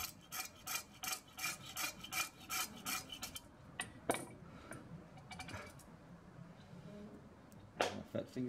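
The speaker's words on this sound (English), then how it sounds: "Then just with a hacksaw" Hacksaw cutting through a steel dowel pin, with rhythmic rasping strokes in a steady back-and-forth pattern that slow and grow sparser partway through, fairly quiet and close.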